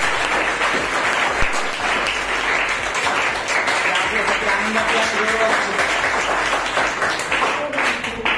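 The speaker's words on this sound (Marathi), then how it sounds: "त्या प्रवेशासाठी जोरदार टाळ्या" An audience at an award felicitation ceremony for a student admitted to a dental college breaks into loud, sustained applause, dense clapping filling the hall throughout.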